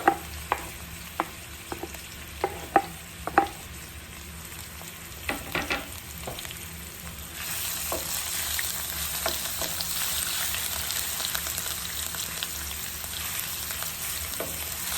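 Garlic with red and yellow peppers sautéing in a pan, starting with a series of sharp utensil knocks and scrapes over quiet frying, then a loud, steady sizzle for the rest of the time.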